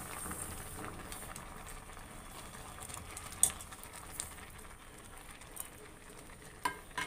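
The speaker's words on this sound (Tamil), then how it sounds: "நல்லா போட்டு மிக்ஸ் பண்ணி விடுங்க." Semiya payasam with sugar is stirred in a pan, giving soft, faint scraping and gentle bubbling with occasional light clinks of the spoon against the pan.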